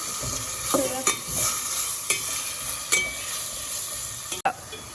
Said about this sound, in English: we're going to saute the onions until they're translucent